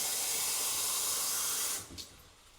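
Water fills a bottle with ice cubes already in it, a loud steady hiss and rush close by for nearly two seconds before cutting off abruptly with a brief trailing splash.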